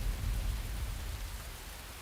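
Steady heavy rain pours down in a dense, even wash of noise with a low rumble beneath it, continuous and close, with no voices over it, in a scene from an animated Beyblade Burst Turbo episode.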